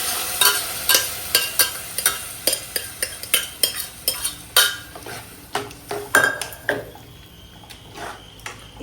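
Mutton intestines fry in masala in a pan, stirred with a metal spoon in regular scraping strokes over a steady sizzle, close and loud with no talking.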